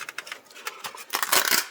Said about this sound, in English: Get one of the pans out.